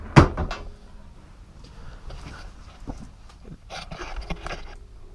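Drawers and cupboards in a truck camper open and close, starting with a sharp, close knock followed by scattered softer clatters and thumps in a quiet interior.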